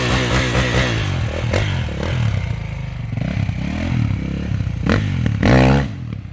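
A Kawasaki KX450X four-stroke dirt bike revs hard while riding the trails at Tillamook, its engine note climbing through a long second gear toward redline with rattling clatter and scrapes, loud and close, surging near the end.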